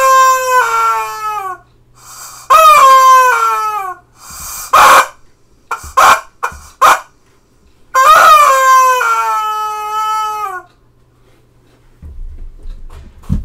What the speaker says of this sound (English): So that's rubber chicken.